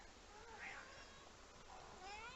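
A domestic cat meows in a quiet indoor room, two drawn-out calls close to the microphone with a soft background hiss.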